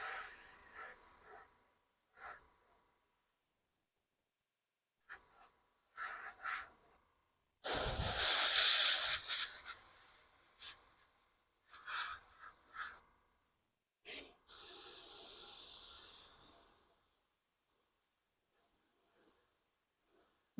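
Spray paint hissing onto a Fanhome Millennium Falcon model during its final coat, heard as several short close bursts of varying length with quiet gaps between them and one longer spray in the middle.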